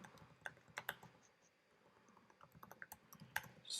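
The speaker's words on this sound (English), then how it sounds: "I'll type mine." Someone types on a computer keyboard to enter an email address, giving irregular bursts of soft, close key clicks with short pauses between them.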